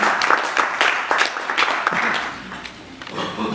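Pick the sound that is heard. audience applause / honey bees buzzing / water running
audience applause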